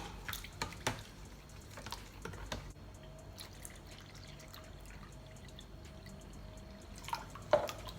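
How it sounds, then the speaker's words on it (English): Cold water is poured into jello mix, heard as faint, scattered drips and light trickling in a quiet kitchen, with a few sharper splashes near the start and end. "I'm gonna put the cold water in there now."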